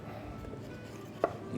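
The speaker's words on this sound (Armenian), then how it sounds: "բարակ շերտերով պիտի կտրատել բոլոր մթերքները" A knife chops vegetables such as bell pepper, mushroom, onion, carrot and eggplant into thin slices on a board, with soft repeated cuts and one sharper knock near the end, close and quiet.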